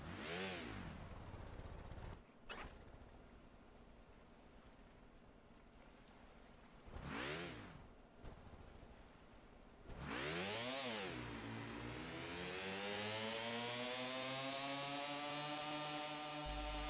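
An engine without a radiator, run by a Kinux engine control unit, revs up in sharp rising-and-falling bursts, then climbs into a sustained whining drone that keeps building; no voices.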